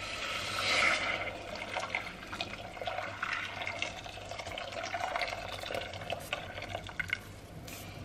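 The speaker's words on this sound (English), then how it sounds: "And 2 pints of water." Two pints of water poured into a cooking pot on the hob, a steady splashing gush that swells early, then settles into a continuous running pour before tapering toward the end.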